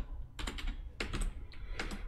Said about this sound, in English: Let's go ahead and just type Microsoft.